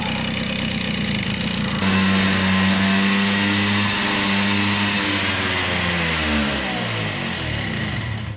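A restored old Jawa moped engine running at idle after long disuse, a loud, close, steady buzzing drone with shifting tone as the revs rise slightly and settle.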